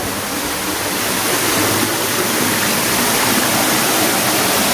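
The waterfall at Kipot Falls, Sitio Caniogan, Barangay Nagsipit, San Joaquin, Iloilo, gives a loud, steady, close roar of rushing water that fills the whole clip without a break.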